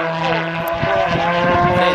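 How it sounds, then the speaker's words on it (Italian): A loud model aircraft engine roars steadily and close at an outdoor model air show, a continuous buzzing drone with a strong low hum and no talk over it. "È il motore più rumoroso in assoluto."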